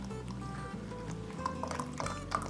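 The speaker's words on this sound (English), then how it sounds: "I don't really measure it, I just kind of pour it in." Chai being poured into a glass holding a protein shake, a steady liquid trickle with small splashes and gurgles over a low background hum, close by.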